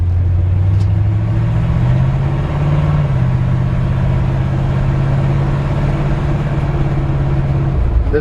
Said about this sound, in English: Great sounding exhaust